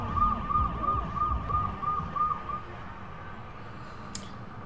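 An ambulance siren in the video game Saints Row 2 wails loudly in a steady, repeating rising-falling pattern, then fades, with a brief sharp burst near the end and no talking.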